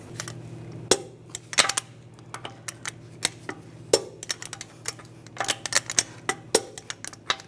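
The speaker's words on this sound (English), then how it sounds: "Now I'm going to torque the lug nuts to 111 foot-pounds in a cross pattern to tighten the wheel down evenly" A torque wrench tightens the lug nuts on a 2010-2016 Cadillac SRX front wheel, giving a series of sharp metallic clicks spaced a second or more apart, close and fairly loud, over a steady low hum, with no talking.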